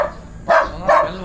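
A dog on a beach at Laiya, San Juan, Batangas gives two short, loud barks close by, spaced less than half a second apart.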